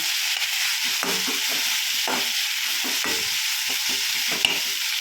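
Vegetables stir-frying in oil for veg fried rice, a continuous loud hiss of sizzling with rhythmic stirring and tossing scrapes, close up and uninterrupted by speech.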